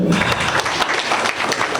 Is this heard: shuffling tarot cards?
no